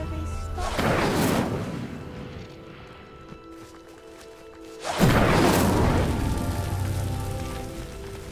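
The Incendio fire spell goes off twice in Hogwarts Legacy, each cast a loud whooshing burst of flame that swells, roars and slowly fades, with a quieter crackling lull between the two blasts.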